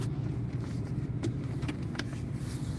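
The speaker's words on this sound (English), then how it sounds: "I'm going to take the truck, pull it to the door" A truck drives with a steady low engine rumble and road noise throughout, fairly close, with faint clicks and rattles on top and no talking.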